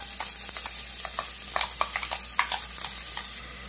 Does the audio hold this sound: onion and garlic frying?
yes